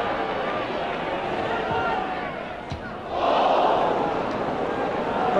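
Large football crowd at a 1980s FA Cup match between Luton Town and Watford, a steady roar that swells into a sharp collective gasp as a shot strikes the post, with commentary over it.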